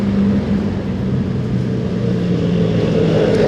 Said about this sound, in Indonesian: Lihat tuh, rame banget sama truk.